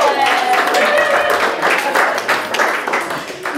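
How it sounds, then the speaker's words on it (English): Guests at an engagement puja clap their hands: a lively patter of applause from a small group, close by, mixed with voices and cheers throughout. "So yeah, so give him a round of applause too."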